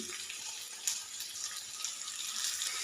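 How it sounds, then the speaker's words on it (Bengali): Soaked rice for fried rice tumbles into a pan in a steady, close rush resembling pouring water, holding even for about three seconds with no talk. "এবার আমি চালটা এর মধ্যে দিয়ে দিচ্ছি"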